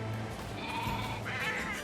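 Sheep bleat in the NieR Replicant video game, a wavering call set against a dense, steady wash of background music and ambience.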